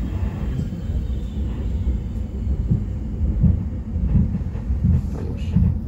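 A Renfe Talgo Avril (AVE S106) high-speed train between Valencia and Madrid crosses another train, a heavy continuous low rumble with swelling bursts, steady and loud with no talk.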